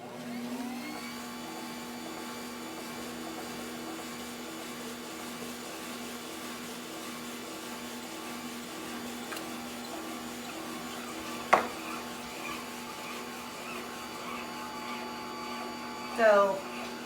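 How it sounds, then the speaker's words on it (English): A tomato milling machine pressing roasted tomatoes to part the juice from the seeds and skins gives a steady, even motor whine with a constant hum, broken by a sharp knock near the middle and a brief scrape toward the end. "as I'm milling it, the juice is going to come out here, the seeds and the skin over there"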